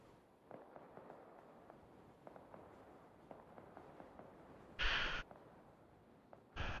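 Arma 3 mortar fire from a realism squad training session: a steady patter of faint distant thumps, then two louder, longer booming bursts standing well above the quiet background.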